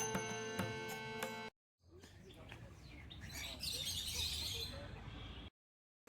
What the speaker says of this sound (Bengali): শুধুই এখানে না আমি পাখির কিচিরমিচির আওয়াজ শুনতে পাচ্ছি